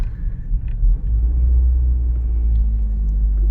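A Toyota Matrix XRS with the 2ZZ engine cruises along, its low engine and road rumble steady and close throughout, with no talk.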